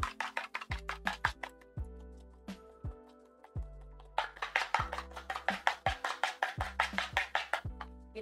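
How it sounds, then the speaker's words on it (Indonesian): Quick metal strokes of a whisk beating egg whites in a bowl, fast and regular, pausing briefly before speeding up again. Fairly quiet and close. "di sini ini putih telur, kita kocok lepas"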